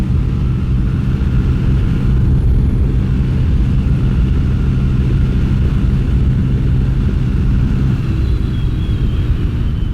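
A budget bobber motorcycle with a modified carburetor slide runs at full throttle. Its engine gives a loud, close, unbroken low roar and rumble for the whole stretch, with no talking.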